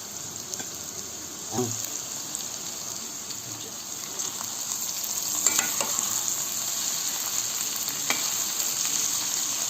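Two large chopped onions sizzle steadily in a pan for an okra bhuna, a dense even hiss with a few soft stirring knocks and scrapes near the start and middle.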